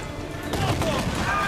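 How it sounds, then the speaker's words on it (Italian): Gunfire from a small boat in Assassin's Creed 4 during a naval battle, a dense rumbling volley of shots and booms at moderate loudness under game ambience. "Arrivando una navettina piccolina piccolina che ci sta sparando addosso"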